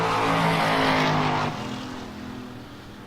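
A Duster drag race car makes its run at a no-box 660 shootout, a loud roaring engine note that holds steady for about a second and a half, then drops away to a quieter, receding rumble.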